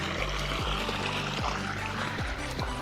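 Water pours steadily from a pipe, a continuous rushing gush with a few low knocking thumps recurring at intervals underneath.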